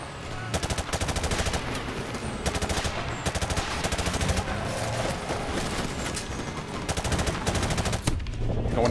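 Sustained automatic gunfire in Call of Duty 4 Remastered, final mission: dense, rapid bursts of shots fill nearly the whole stretch, loud and close, with brief gaps and layered weapons over game noise.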